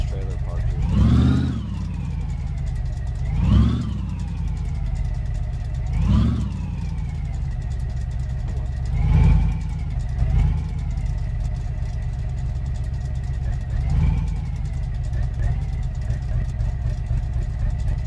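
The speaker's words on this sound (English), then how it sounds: "I think we'll also get the trailer pulled back." A truck pulling a trailer in a farming game, its mid-pitched engine droning steadily while revving in about five separate surges, loud and close, with talk over it.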